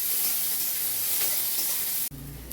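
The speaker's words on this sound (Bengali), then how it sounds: "কাঁচা লঙ্কা কুচি আর দিচ্ছি কিছুটা পেঁয়াজ কুচি। এটাও খুব ভালো করে লাল করে ভেজে নেব।" Chopped onion and green chilli, along with garlic, sizzle steadily in hot oil, a loud, continuous frying hiss that breaks off abruptly near the end into a quieter, lower-toned sizzle.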